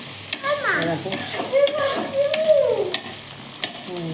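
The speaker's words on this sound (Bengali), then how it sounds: "পেঁয়াজ দিয়ে দিচ্ছি, পেঁয়াজটা তো ভাজা ভাজা হয়ে গেলে" Onions frying in a pan with chilli, a bright continuous sizzle and stirring close by, partly under a voice speaking.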